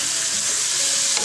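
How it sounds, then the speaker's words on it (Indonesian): Chopped tomatoes hitting a hot pan, producing a loud, dense, continuous sizzle right up close for a brief moment, with no voices. "sekarang akan saya masukkan tomat yang sudah dicincang."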